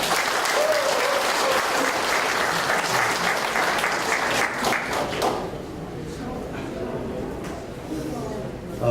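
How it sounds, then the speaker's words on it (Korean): Crowd applause at an election campaign rally, welcoming a local party regional chairman to the stage. The clapping is dense and loud, then thins out and fades over the last few seconds. "큰 박수로 맞이해 주시기 바랍니다"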